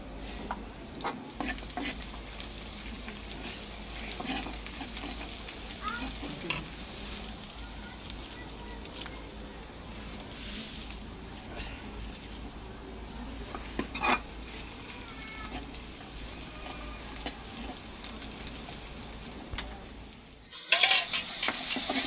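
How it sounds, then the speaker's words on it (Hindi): Masala of garlic, onion and chili powder frying and being stirred in a pan, a steady close sizzle with scraping stir strokes and occasional utensil clinks throughout, no talking. "मसाला भी भून चुका है जी"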